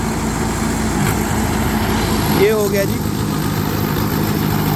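A Mahindra 585 XP plus turbo tractor runs in low gear with a loud, steady engine drone and a brief rising whine partway through, while someone speaks over it.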